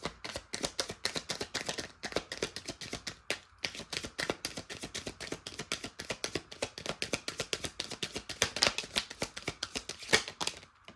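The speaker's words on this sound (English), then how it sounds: "I'm going to riffle these cards a little bit." Tarot cards riffle shuffled by hand, a long run of quick, crisp flapping clicks in repeated bursts with brief pauses between them, close and fairly quiet, with no talk.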